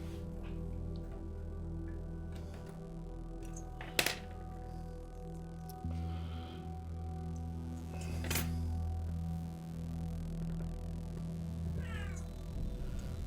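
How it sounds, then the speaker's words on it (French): A cat that has just woken up meows a couple of times, faint and brief, in a quiet indoor room with a low background hum and occasional light clinks. "j'ai un chat qui s'est réveillé"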